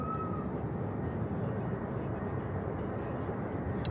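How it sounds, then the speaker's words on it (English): Steady, continuous jet engine rumble from a Virgin Airbus A330 taxiing at Manchester Airport, a broad even roar held at moderate distance throughout with no clear spool changes. "Virgin 330 on the taxi."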